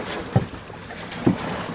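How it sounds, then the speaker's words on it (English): A sailboat moving gently on water near Milford Haven and Dale, with steady wind and water wash and two soft knocks or sloshes, heard alone. "It's a pretty gentle sail going on down below compared to usual."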